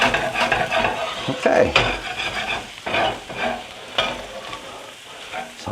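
Hash browns stirred with butter in a frying pan, sizzling under the scrape and clatter of a utensil against the pan in uneven bursts, close by, with a brief spoken word.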